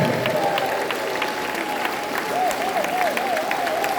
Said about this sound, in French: Acclame-le, acclame-le, acclame encore, acclame-le.